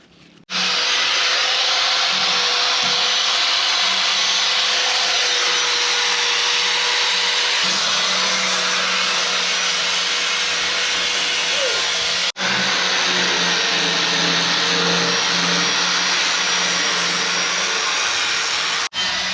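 Power sander working over a basket being taken apart in Kupang, Timor, Indonesia, running as a loud, continuous, even whine for the whole stretch with only a brief dip partway through.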